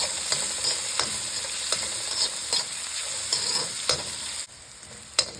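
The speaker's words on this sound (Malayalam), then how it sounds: "പച്ചമുളക് നമുക്കിട്ടൊന്ന് നല്ലപോലെ ഒന്ന് മൂപ്പിച്ചെടുക്കാം." Green chillies, onion and garlic frying in oil in a pan for a spinach thoran, with a steady close sizzle broken by repeated sharp scrapes of a spoon stirring, then a brief quieter drop near the end.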